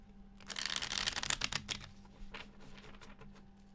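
Tarot cards being shuffled by hand, a rapid riffling burst of crisp flicks that peaks and then trails off into softer, scattered card sounds over a low steady hum, with no talking.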